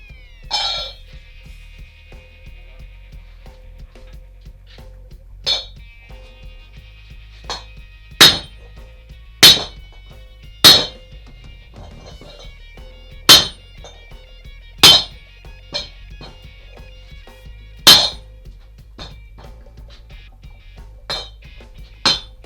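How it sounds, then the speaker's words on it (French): Ball-peen hammer striking metal while shaping a shield boss: a dozen or so sharp metallic clangs at irregular intervals, close and loud over a quiet workshop hum. "je tape sur la surface là avec mon marteau"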